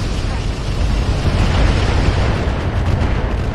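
Incendiary bombs from a Roguetech mech battle game go off in a heavy, continuous rumbling roar of fiery explosions, loud and dense throughout, with no clear gaps between blasts.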